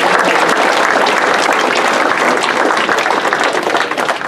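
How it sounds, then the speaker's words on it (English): A banquet crowd at the 2017 Eriez Speedway awards night gives the crew a round of applause: loud, dense clapping that holds steady throughout and eases slightly at the end. "Did we give him and his crew a round of applause by any chance?"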